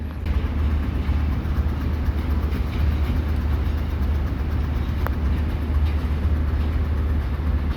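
The 28 Down Shalimar Express passenger train rolls past on the track, a loud, steady roar and clatter of its coaches that holds throughout with no one speaking.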